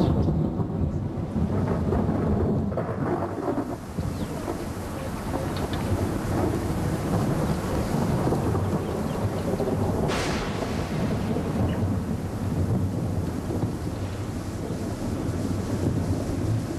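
Thunder rumbles through a Kalahari rainstorm over steady rain and gusting wind buffeting the microphone, with one sharp crack partway through.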